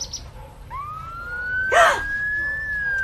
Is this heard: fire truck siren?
yes